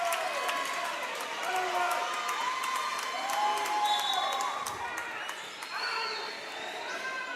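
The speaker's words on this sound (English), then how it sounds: "Home crowd here trying to get the Crusaders back into the set" A home crowd cheers steadily through a women's college volleyball match in a gym, with broad sustained noise, squeaks and scattered sharp bangs from the court, and an announcer talking over it throughout.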